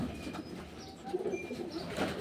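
Pigeons cooing at low level in a loft of about twenty pairs of birds, soft repeated coos with faint chirps over a muffled background, no talking.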